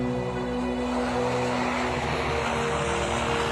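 Vietnam-era Skyraider propeller planes drone steadily overhead on the way back to base, a continuous, even engine rumble with no breaks.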